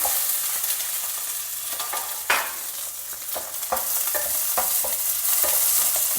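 Peeled small onions and curry leaves sizzle in hot oil for sambar, a steady frying hiss broken by scraping stirs and occasional louder spatters, close and with no voices.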